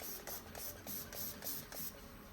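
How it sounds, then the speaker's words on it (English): A series of quick hissing spray bursts of polyurethane onto hands, about seven in a steady rhythm, soft and close with no talking. "So just spray my hands"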